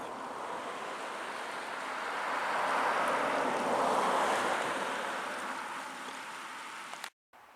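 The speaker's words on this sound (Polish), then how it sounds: "naprzeciwko chaty przepływa rzeka graniczna Orlica" The Orlica, a border river in the Bystrzyckie Mountains in spring, flowing as a broad continuous rushing wash that swells and then eases before cutting off abruptly.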